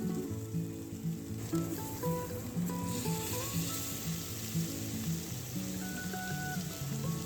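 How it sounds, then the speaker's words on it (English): A pork chop sears in its own rendered fat in a pan over high heat, giving a steady, loud sizzle through the whole stretch with a melodic tonal layer running underneath. "You render some fat out when you sear it like this."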